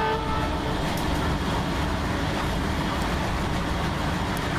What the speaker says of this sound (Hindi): अभी हम लोग यहाँ से डिपार्ट करते हैं हॉर्न बजा के